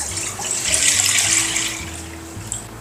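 Water poured into a container for a fishball-style sauce, a steady close splashing and trickling stream that swells slightly and then eases off.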